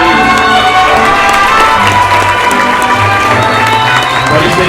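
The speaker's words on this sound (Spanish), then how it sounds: "aplauso para todos ustedes" Applause and cheering from a crowd at a school Día del Mercadólogo event, a loud, steady wash of clapping and shouts with voices mixed in throughout.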